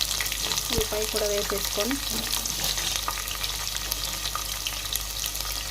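Onions fry in a pan for Telangana-style chicken pulao, a dense continuous sizzle with crackling pops throughout, while a voice speaks briefly over it early on.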